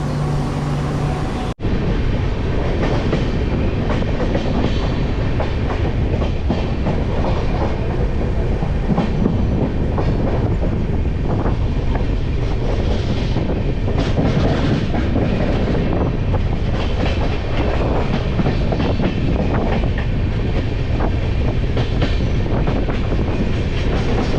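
Moving passenger train heard from inside a crowded general coach, a steady loud rumble and rattle of the carriage with wheel clatter running continuously throughout.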